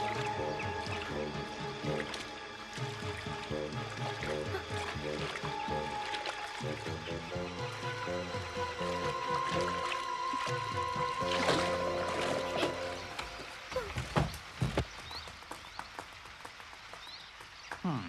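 Gentle river water sloshing and dripping around a small rowing boat, with soft creaks and splashes of rowing, steady throughout with a few sharper splashes near the end.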